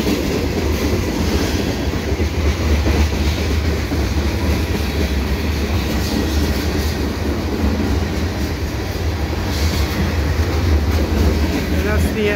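A CN freight train rumbles past close by at Dorval, a loud continuous roar of rolling wheels and clattering cars that holds steady throughout.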